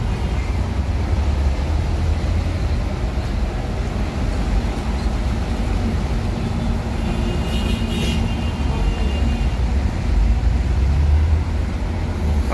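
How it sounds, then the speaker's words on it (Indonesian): Heavy, jammed road traffic on a busy street, a dense continuous roar of engines and tyres with passing vehicles blending into a loud, unbroken wash, no voices. "Lalu lintas padat, macet."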